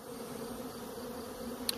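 Honey bees robbing a hive produce a steady, dense buzzing drone, fairly faint and continuous, with no voices.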